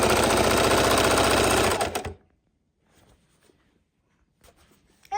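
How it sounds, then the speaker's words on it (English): A Singer sewing machine runs a steady straight stitch on a quilted book bag with brown thread, a loud rapid mechanical whir for about two seconds, then stops to near silence before briefly starting up again at the end. "Singer sewing machine"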